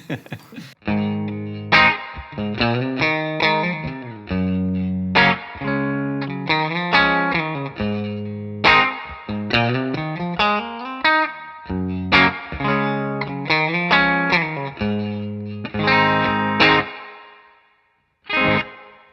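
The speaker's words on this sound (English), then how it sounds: "if you have like a clean tone, like for pop, I definitely go something like that. And then some reverb" A Telecaster electric guitar plays a clean rhythm part with reverb: bright, ringing chord stabs and short strummed phrases, each with a tail that decays, heard alone with no talking.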